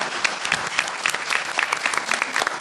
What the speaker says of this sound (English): Let's give them a little applause.